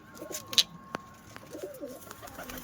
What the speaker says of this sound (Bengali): নিজেরও অনেক পায়রা আছে, দেখো ঘরটা দেখাও